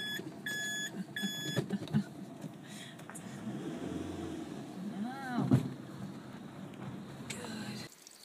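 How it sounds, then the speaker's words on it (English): A car alarm beeps in quick repeated bursts near the start, over road rumble and engine noise inside a moving vehicle, with voices talking. "We're having an alarm in the car."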